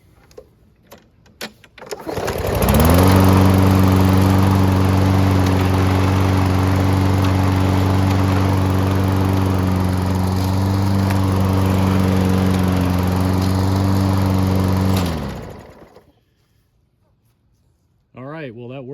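A two-year-old Toro Recycler 21-inch rear-wheel-drive self-propelled lawn mower engine runs steadily and loudly for about twelve seconds after starting, then cuts off, with a steady droning hum throughout.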